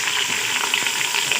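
Onions sizzle in hot oil in a pan as they start frying, a brief, even crackling hiss heard close up and alone.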